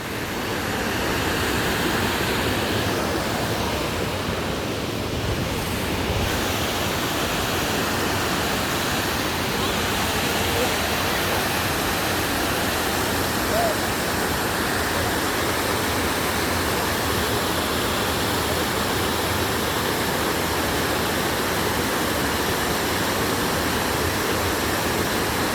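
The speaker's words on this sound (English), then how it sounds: "There's the waterfall." A waterfall pours as a dense, constant broadband rush that fills the entire clip without letting up, close and loud.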